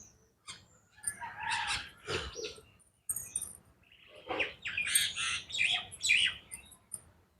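Pigeons kept at a friend's house make bursts of calls and rustling, close by, in irregular clusters separated by short pauses.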